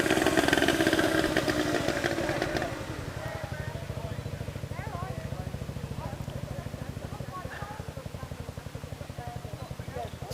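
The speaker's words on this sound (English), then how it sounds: "And we've got a Harley here." A Harley motorcycle engine runs steadily at a Scott motorcycle meet, a loud, close rhythmic throb that is strongest at first and then settles to an even idle-like pulse, with people talking nearby.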